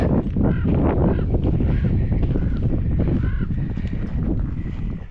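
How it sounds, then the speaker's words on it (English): Crows calling inside an abandoned 1930s tungsten mine building, several loud harsh caws repeating over a windy, rumbling background. "Crows were right in there."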